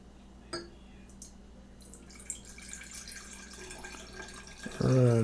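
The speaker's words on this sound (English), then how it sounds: "let's pour that into the vinegar line" Homemade fire cider is poured into a vinegar bottle for salad dressing. A few faint drips lead to a sudden louder gurgling pour at the very end.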